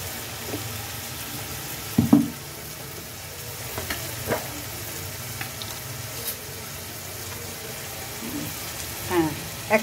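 Cumin and coriander fry in a pan for a prawn curry with fig and banana flower, giving a steady close sizzle broken by a few stirring clatters.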